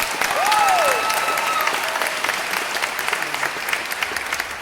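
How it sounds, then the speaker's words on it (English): Steady applause from an audience honoring performing arts students at a Chapman University alumni award event, dense and sustained throughout, with a brief rising whistle-like cheer near the start. "Let's give one more round of applause for those."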